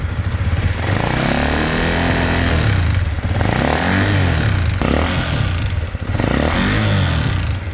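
A Honda RS150 motorcycle engine with a broken piston revs loudly and continuously, its pitch rising and falling in repeated surges, with a mechanical clatter from the cylinder head riding over the engine note.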